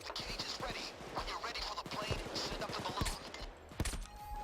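Payday 2 gunshots pop in quick irregular bursts amid chaotic heist action, close and sharp, with game noise and a player's voice mixed underneath.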